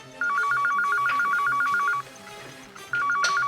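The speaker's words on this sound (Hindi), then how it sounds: "लेकिन बेल तो बज रही है।" A telephone rings with a rapid electronic trill in two long bursts separated by a short pause, loud and close with no talking.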